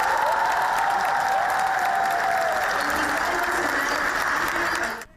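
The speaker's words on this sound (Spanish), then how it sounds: "Ya iniciada la ceremonia, fue aplaudida cuando fue presentada." A crowd claps loudly and continuously at an official International Women's Day ceremony at La Moneda in Chile. Dense, even applause fills the whole stretch before cutting off sharply at the end, with faint voices underneath.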